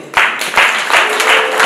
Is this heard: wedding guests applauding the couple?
yes